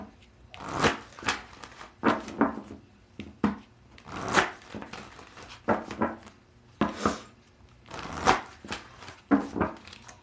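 Soul's Journey oracle cards shuffled by hand during a personal reading, giving steady rhythmic riffling and slapping bursts that repeat close up for about ten seconds with no talking.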